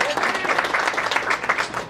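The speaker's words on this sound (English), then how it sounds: "That's a round of applause." A brief burst of applause at a Rotary club gathering, steady clapping from a room of people lasting about two seconds.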